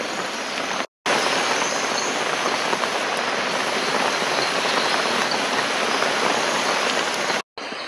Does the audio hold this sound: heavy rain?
yes